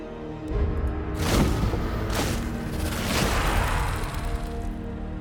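Artillery fire in the Total War Warhammer 2 video game, with Tomb Kings forces on the battlefield: a few heavy booming blasts with rumbling tails roll over a constant loud battle din, no talking.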